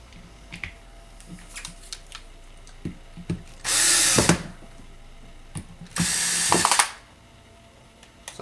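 A power screwdriver drives a screw home on a 2005 Cadillac Deville heater/AC blower motor, two loud whirring bursts of about a second each, separated by small clicks and handling knocks, with no talking.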